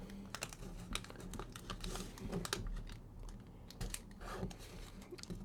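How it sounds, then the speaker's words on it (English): A dollar bill is folded along its center crease and pressed down, making close, quiet, crisp paper taps and crinkles in uneven bursts, with no speech. "I'm going to take this bottom edge and I'm going to fold it along the center crease."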